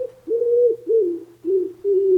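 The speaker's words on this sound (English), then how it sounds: "This pigeon that is waiting for this episode is getting a little antsy." A pigeon coos close by in a quiet room, four soft, rounded hooting phrases in a steady rhythm with brief pauses between them.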